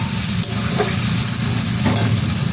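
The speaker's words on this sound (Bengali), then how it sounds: "এবার দিয়ে দিচ্ছি কুচানো পেঁয়াজ।" Chopped onion frying in a pan, a continuous close sizzle with soft stirring scrapes.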